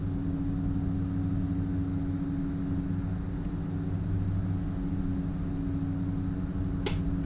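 Fokker F27 twin turboprops at takeoff power during the takeoff roll in a flight simulator, a loud constant low droning rumble with a steady tonal hum, no speech.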